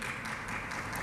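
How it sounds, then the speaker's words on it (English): Applause from an audience at a public hearing in West Virginia, a brief, fairly faint wash of dense clapping. "please keep the applause"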